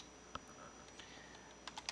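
Keys on a computer keyboard tapped while a VBA macro is written in Excel, a few scattered, quiet clicks across a short moment, with a small burst of taps near the end.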